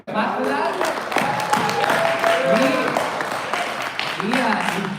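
Church congregation applauding together, a steady broad wash of clapping with scattered cheers and voices mixed in throughout.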